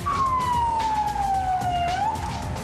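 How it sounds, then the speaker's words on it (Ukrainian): A Polish ambulance siren wails, sweeping slowly downward in pitch, then turning back up, loud and steady with no voices. "Таку ось магічну силу має сирена невідкладної медичної допомоги у Польщі."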